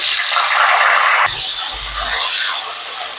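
Cauliflower pieces go into hot, lightly salted oil in a kadai, setting off a loud, bright hiss. The sizzle drops and shifts in tone partway through, then carries on steadily.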